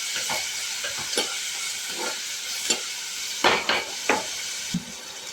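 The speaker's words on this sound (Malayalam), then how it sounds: "ഈ മുളകും ഇഞ്ചിയും ചെറിയ ഉള്ളിയും കൂടി വെളുത്തുള്ളിയും കൂടി നല്ലവണ്ണം വഴണ്ട് വരണം" Chilli, ginger, shallots and garlic sauté in a pan for fish curry, giving a steady close sizzle broken by several sharp stirring scrapes and clinks, with no talking.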